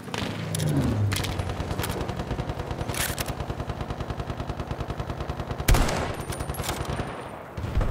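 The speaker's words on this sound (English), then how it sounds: "I'm under heavy fire!" Rapid sustained automatic gunfire in a shooter game, a dense regular rattle of shots running throughout with a heavier blast near the end, loud and close.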